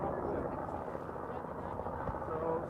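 Helicopters fly near a volcanic eruption, making a steady, dense rotor rumble that holds constant throughout as a continuous mid-distance drone, with talk over it.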